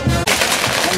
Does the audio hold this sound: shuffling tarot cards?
no